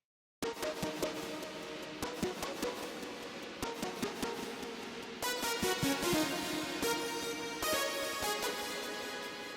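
A synth drop lead built from the KH1 plays an electronic melody with rhythmic, percussive articulation, loud and alone. Its tone turns brighter and denser partway through.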